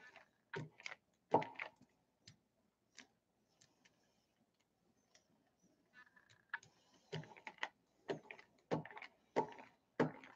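Paper being rubbed by hand onto a Gelli plate print, heard as close, dry brushing and scuffing strokes in irregular bursts separated by short quiet gaps.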